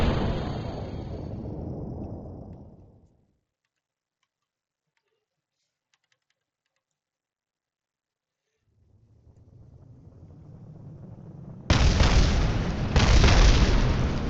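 Rocket stages blow up after being ditched in Kerbal Space Program: a fading roar, several seconds of silence, then a swelling rumble broken by two loud, close explosive bursts.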